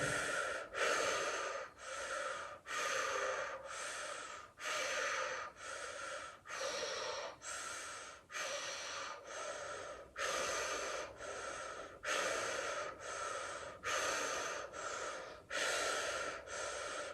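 Deep, forceful breaths are drawn in and released in a regular cycle, about a dozen loud, close airy inhalations alternating with brief pauses, with no speech.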